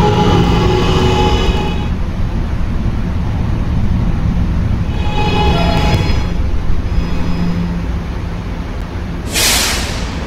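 An R211A subway train runs in a Roblox game, its low, broad rumble steady and loud throughout, with faint tonal whines rising and fading at intervals and a brief bright hiss burst near the end.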